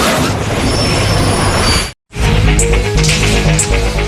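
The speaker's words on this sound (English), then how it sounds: "884 is approaching the Eschede road bridge at 200 kilometers per hour" An ICE intercity express train at speed near the Eschede road bridge gives a loud, close roar of rushing wheels and rail noise, broken by a brief silence before the rumble resumes with squeals.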